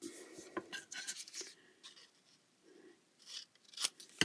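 Scissors snip through folded decorative paper at a craft table while a paper envelope is made, giving several short crisp cuts scattered across a few seconds, close and fairly quiet.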